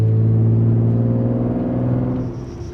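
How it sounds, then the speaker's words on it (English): A Nissan 350Z (Z33 Fairlady Z) engine rumbles steadily up close at idle, a deep burbling, gurgling exhaust note with little pops that settles slightly lower near the end. "I love the gurgling, the little pops it makes."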